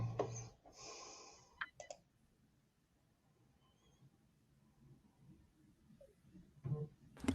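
A phone mute button gets clicked several times in scattered, sharp, quiet taps, with some low rustling and breathing noise in between and no talk.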